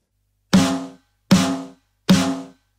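Three evenly spaced snare drum hits from a recorded stoner rock track, each loud and ringing with a long natural decay, left unprocessed.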